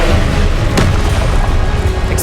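Confringo explosion spell cast in the video game Hogwarts Legacy, a loud, dense, rumbling blast with one sharp crack partway through and heavy low-end boom carrying across the whole stretch.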